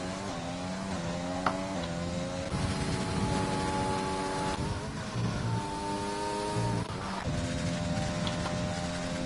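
A race car in a racing video game laps a Japanese circuit near the Spoon corner, its engine holding a steady whining drone that shifts pitch as it slides through the bend, continuous and fairly loud.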